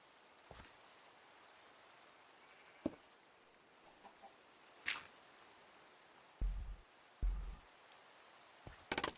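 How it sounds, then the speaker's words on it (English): In the Minecraft video game, a chicken clucks in short, separated bursts while rain patters softly in the background, with occasional sharper taps and no speech. "The chicken is hiding from the rain."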